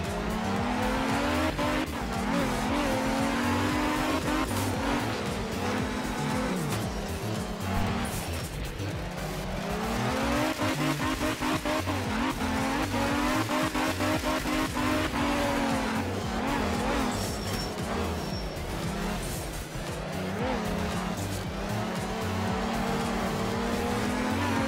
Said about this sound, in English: Managed to do a full 360 with the car never getting faced the other way